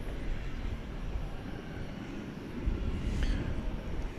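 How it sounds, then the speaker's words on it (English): A UPS Airbus A300 pushes back at night at DFW Airport, a faint, distant low engine rumble that swells slightly near the end. "We have an A300 pushing back now from UPS"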